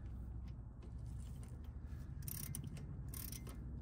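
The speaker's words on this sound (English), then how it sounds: "Hold it, make sure our ratchet is on loosen." Ratchet turning a 19 mm socket to loosen a front brake bolt on a 2007 Honda Fit Sport, a quiet rapid clicking of the pawl close by, with no talk.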